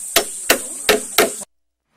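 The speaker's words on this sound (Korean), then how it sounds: "망치 소리도 나고요" Four crisp hammer strikes on nails going into a wooden railing at an outdoor camp, close and fairly loud, spaced about a third of a second apart before cutting off.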